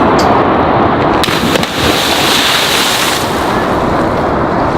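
Person plunging into open water holding iPhones, a loud close whoosh of splashing and churning water, briefly dipping then continuing as rushing turbulence and wind noise.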